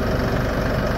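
An LS XR4145 tractor engine idles smoothly after a crankshaft sensor replacement, a steady low throbbing rumble heard close and alone.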